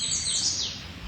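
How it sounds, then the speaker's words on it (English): Birdsong in a spring outdoor setting, one clear high chirp rising and falling over a steady low background, brief and moderately near. "feel the birdsong, inviting your breath a little deeper"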